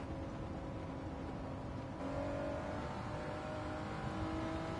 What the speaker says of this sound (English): This car doesn't sound modified.